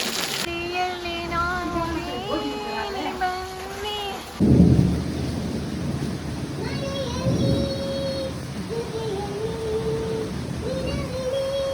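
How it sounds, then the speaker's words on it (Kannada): Rain falls in a strong wind with rumbling thunder, a sudden loud burst partway through followed by steady rushing noise, while a person talks over it. "ಸೊ ಮಳೆ ಸ್ಟಾರ್ಟ್ ಆಯ್ತು. ಇವಾಗ ಜೋರು ಗಾಳಿನೂ ಬರ್ತಾ ಇದೆ."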